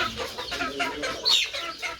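Chickens cluck and chatter steadily nearby, with several birds overlapping and one louder squawk partway through; no talking.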